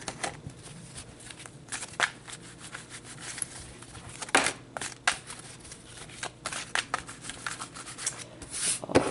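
Tarot cards are shuffled and handled close by, with soft riffling, sliding and tapping bursts in an uneven rhythm against a quiet room.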